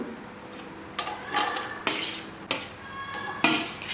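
Mixed vegetables, sautéed mushrooms and corn, are stirred together in a dish for a grilled veg cheese sandwich: a few separate clinks and scrapes of a spoon against the dish, close and clear, with quiet gaps between.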